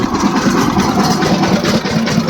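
A heavy tractor engine idles close by, a steady low rumble with a faint rhythmic throb and no voices.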